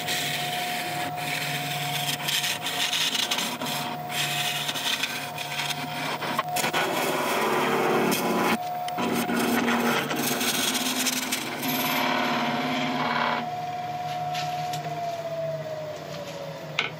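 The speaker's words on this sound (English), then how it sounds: "it's going to be a bit of carbide work and a bit of gouge work." A wood lathe spins a yew blank while carbide and gouge tools cut into it, giving a steady motor hum with scraping, rasping bursts of wood cutting throughout, close and clear, with no talk.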